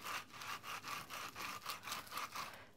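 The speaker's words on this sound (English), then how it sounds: "Now most painters use fine grit sandpaper, especially on a delicate piece like this." Fine-grit sandpaper rubs back and forth over painted wood furniture to distress it, a steady rhythmic rasping of roughly a dozen even strokes, close and fairly quiet, with no voices.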